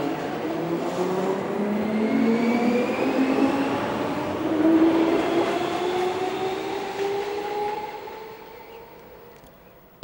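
A DB Class 420 S-Bahn electric train rolls through Höfingen, with a steady loud rumble of wheels and rising and falling motor whine that fades toward the end, heard on its own.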